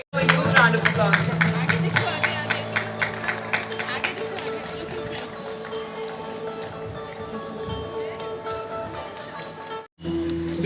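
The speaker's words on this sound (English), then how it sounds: "A huge round of applause." An audience claps in a rhythmic beat at a school annual prize-giving ceremony, with music and crowd babble behind; the clapping is strongest early on, then continues more loosely before a brief break near the end.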